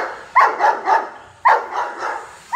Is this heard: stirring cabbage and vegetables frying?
no